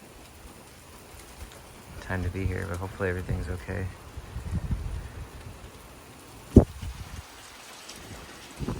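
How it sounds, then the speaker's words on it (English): Steady rain and gusting wind from a summer storm roll on as a low, continuous wash, with a person talking over it and one sharp knock partway through. "there's like some strong winds and rain and stuff. It's really coming in."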